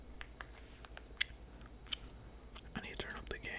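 Gum chewed close to the mic during a Valorant gaming session, soft wet smacks and clicks at an irregular rhythm, with faint whispering alongside.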